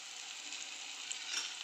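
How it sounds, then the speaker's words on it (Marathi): Soft, even sizzle of paneer shallow frying in a pan, faint and steady throughout, with no voices. "आता याला आपण शॅलो फ्राय करून घेऊया"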